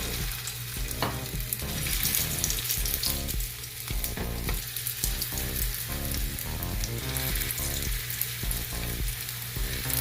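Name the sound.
gola kababs shallow frying in oil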